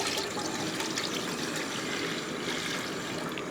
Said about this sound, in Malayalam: ഇതേപോലെ രണ്ട് പാത്രം വെള്ളം ഞാൻ ഒഴിച്ചു കൊടുക്കുകയാണ്